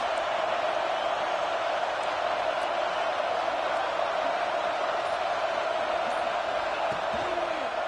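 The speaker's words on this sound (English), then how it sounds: "This crowd trying to make life miserable for this offense" Steady roar of a large stadium crowd in a college football video game, a dense, continuous wash of cheering that holds level and loud for the whole stretch, with occasional faint thuds beneath.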